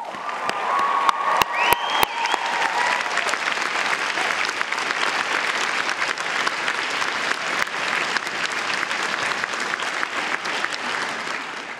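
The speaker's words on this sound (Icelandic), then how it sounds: "Nú skulið þið gefa ykkur gott klapp." A large audience at a University of Iceland graduation ceremony breaks into sustained, even applause, with a few sharp close claps near the start and scattered cheering blended into the steady roar.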